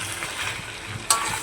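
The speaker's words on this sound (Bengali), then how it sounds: "মাংসগুলো তুলে একটু জল ছেঁকে নিয়ে ভালো করে কষিয়ে নিচ্ছি" Boiled mutton pieces, drained of water, being sautéed in a pan, giving a soft steady sizzle with faint stirring scrapes and one brief louder clink near the end.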